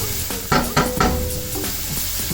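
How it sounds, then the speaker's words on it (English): Garlic and onion sweating in a pan for lasagna, a soft, steady sizzle with a few brief stirring scrapes, close and fairly quiet. "we're just going to sweat the garlic and onion until it's a little translucent"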